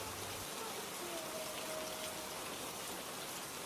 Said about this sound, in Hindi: बाहर बारिश पहले से भी तेज हो चुकी थी।